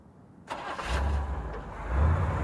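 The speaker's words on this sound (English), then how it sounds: "Then a car starting." A car engine cranks and catches, then settles into a rumbling idle with a slight rev, close and fairly loud, used as a sound effect in an old-time radio detective drama.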